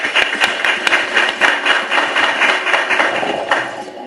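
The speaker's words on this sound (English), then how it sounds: "Can we have a round of applause for that" An audience at an awards ceremony gives sustained applause, a dense crackle of many hands clapping steadily and fairly loud for the whole stretch, with no voices standing out.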